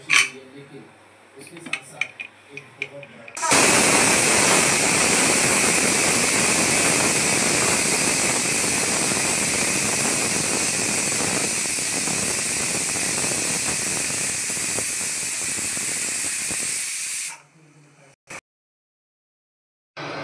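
Pressure cooker boiling taro leaves for a Malvani dish lets out one long, loud, steady whistle with hiss that runs for about fourteen seconds before cutting off abruptly, with quieter kitchen clatter before and after.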